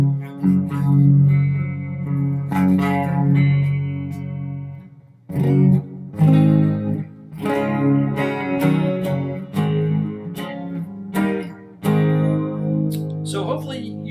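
An electric guitar plays through a patch box, its time-based and modulation effects and reverb adding a chorused, echoing shimmer to sustained chords and picked notes. A steady, fairly loud passage repeats in phrases with brief pauses.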